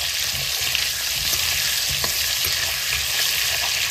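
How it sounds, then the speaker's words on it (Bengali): Potatoes fry in hot oil in a pan, a dense, continuous sizzle with occasional stirring, close and loud with no voices. "তেলখিনি গৰম হোৱাৰ পাছত আলুখিনি দি দিলোঁ"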